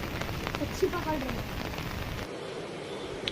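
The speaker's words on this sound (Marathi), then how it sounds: "पाऊस मग खूप पडतो इथं कामोट्यामध्ये" Steady rain falling outdoors in Kamothe, a dense, even hiss that drops away sharply about two-thirds through, with faint voices somewhere in the background.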